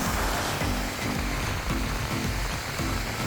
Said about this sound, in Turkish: Aynı şekilde Akçakoca'da da dalgalar çok yüksek.